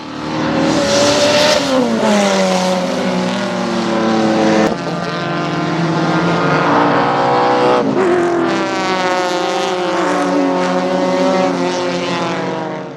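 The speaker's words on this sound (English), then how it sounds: "was a new car and competitor in Kyle Smith in his under 2 litre SR20 powered Datsun 1200 sedan" A Datsun 1200 sedan with an under-2-litre SR20 engine and a Pinto-powered Ford Escort race in wet weather at Baskerville, their engines loud and close with rising revs, gear-change breaks and a Doppler drop as they pass.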